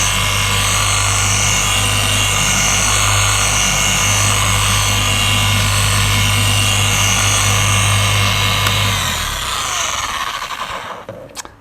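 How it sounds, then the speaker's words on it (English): An orbital polisher working hard paint on a 2021 Mythos Black Audi R8 gives a loud, steady droning whir that holds constant, then winds down and fades near the end. "I never use it higher than setting 4 on the polisher."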